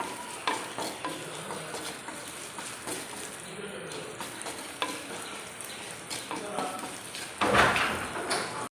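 Onions and green chillies sautéing with salt in a pan for a yogurt curry, a steady sizzle broken by scraping stir strokes, with a louder burst near the end.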